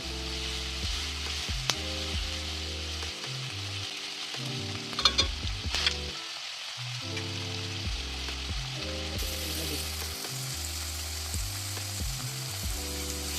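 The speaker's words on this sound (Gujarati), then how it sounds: "ડુંગળીને આપણે આછો ગુલાબી કલર થાય ત્યાં સુધી સાતળીશું." Onions sauté in a pan for masala pasta, making a steady, soft sizzle that runs throughout, with a few clinks of the stirring spoon.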